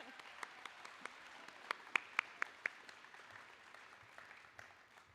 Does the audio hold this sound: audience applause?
yes